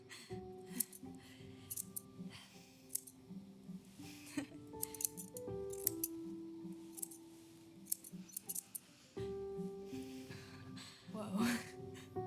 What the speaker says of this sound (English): rusty ass fucking scissors